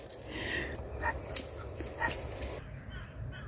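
A hungry dog whimpers outdoors by a farm field in Haryana, India, giving several short, high, thin whines in the first two seconds. The dog sounds fairly close, the whines sit over a steady background hiss, and no one speaks.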